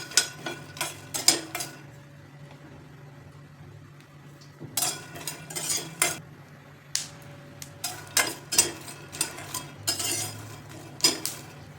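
Peanuts roast in a pan over a medium flame, giving off repeated light clinks and rattles as they are stirred, in irregular bursts over a quiet background.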